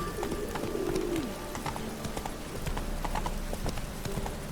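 A horse trots in The Witcher 3 with a quick, even clip-clop of hooves, while pigeons coo nearby and ambient game noise fills the background.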